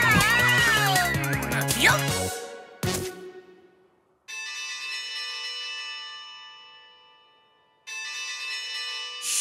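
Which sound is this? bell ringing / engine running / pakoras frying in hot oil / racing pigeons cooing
bell ringing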